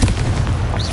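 A Confringo fire spell blast in the Hogwarts Legacy video game on PS5, heard as one heavy, close boom with a deep rumbling body that rolls on for the whole short moment without any voice.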